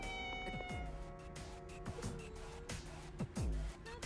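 A cat meows several times in Persona 3 Reload, drawn-out and wavering, over a soft background tone with faint musical notes.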